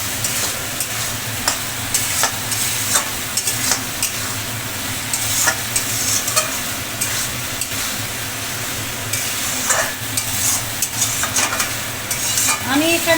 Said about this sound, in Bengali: খুব ভালোভাবে কষিয়ে নিতে হবে সমস্ত মশলা